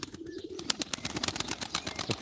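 Pigeons at a live pigeon auction coo close by in a short burst, soft throaty calls over a busy background with a few faint chirps and wing flutters.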